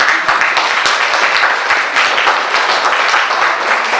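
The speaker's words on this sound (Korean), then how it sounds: "박수 한번 줘야 돼요." Church retreat congregation applauds for a worship leader, a dense, loud and continuous wash of clapping from a roomful of people that holds steady throughout.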